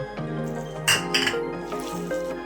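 Spoon clinking against a bowl while cabbage manchurian batter is mixed with coriander, a few bright clanks and soft squishes over a low background hum.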